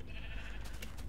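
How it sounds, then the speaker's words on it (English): A rare pink sheep in the Minecraft video game bleats, a short wavering cry over a steady background hum of game ambience, with no talking. "Wow, pink sheep are pretty rare"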